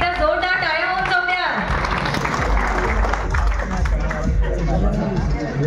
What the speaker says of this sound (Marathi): स्टेजवर उपस्थित सगळ्या कलाकारांसाठी एकदा जोरदार टाळ्या होऊन जाऊ